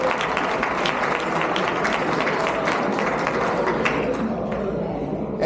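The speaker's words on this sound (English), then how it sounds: "Let's give them a big round of applause." Broad applause from a large conference audience after a corrections directors panel is introduced, a steady dense wash of many hands clapping that holds for several seconds before thinning slightly at the end.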